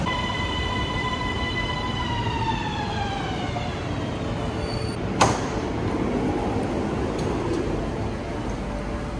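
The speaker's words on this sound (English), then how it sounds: "So we're getting a metro from here up to here" A metro train sits at a Thai station, its electric motor whine sweeping downward in pitch before a sharp clunk, with a steady mechanical hum continuing underneath.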